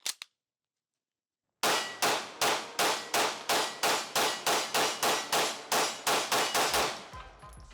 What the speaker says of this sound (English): if you slam the mag home, it'll close the slide